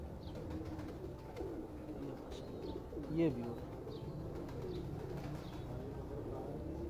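Pigeons coo softly on a rooftop loft, a quiet, distant murmur of low calls with a few higher chirps, and a voice speaks briefly partway through.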